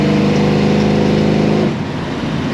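A 1969 Dodge Charger 440 R/T restomod runs close by with a steady, low hum that drops slightly in pitch partway through, heard from inside the car.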